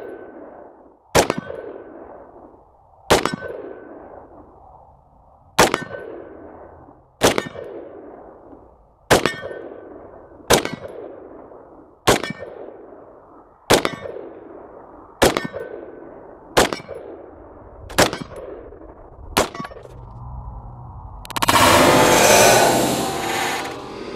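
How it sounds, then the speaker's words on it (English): Rifle bullets striking a steel target at 100 yards, eleven sharp metallic clangs spaced about two seconds apart, each ringing out briefly, followed by a loud rush of noise at the end. "was hitting that steel target at 100 yards"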